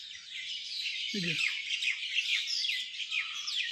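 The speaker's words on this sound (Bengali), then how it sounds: "পাখির ডাক শোনা যায়।" A steady chorus of mynas and sparrows twitters in trees around an empty compound by a swimming pool. One harsher, lower squawk breaks through briefly near the start of the close, continuous chirping.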